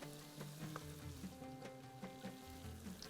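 Carrots dropped into a hot pan of oil sizzle and fry steadily for a few seconds, a close, continuous crackle with no talking, in a home kitchen making Bahraini dishes.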